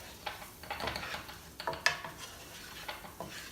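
Spanish rice with garlic powder being stirred in a pan: close, irregular scrapes and clinks of a utensil against the pan with a faint sizzle, no talk.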